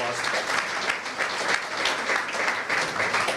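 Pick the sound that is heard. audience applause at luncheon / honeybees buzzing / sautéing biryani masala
audience applause at luncheon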